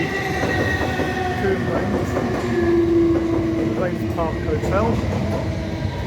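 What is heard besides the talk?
train passing through Raynes Park station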